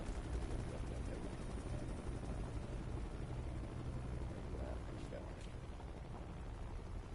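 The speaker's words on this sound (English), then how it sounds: "Where's this heli at? I hear it." A helicopter in the video game Call of Duty: Black Ops, a dense continuous rotor drone filling the whole stretch, loud and steady with faint game noises and voices mixed underneath.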